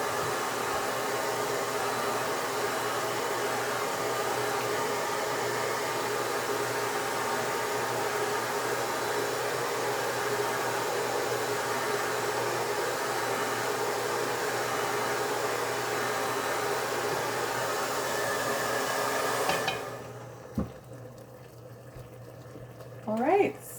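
A hair dryer blows steadily and loudly over dyed polyester lace for about twenty seconds, then cuts off abruptly, leaving a quiet room with a few faint handling sounds.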